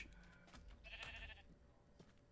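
Sheep in the TechnodeFirmaCraft video game bleat faintly a couple of times over quiet ambient background, the calls short and somewhat distant.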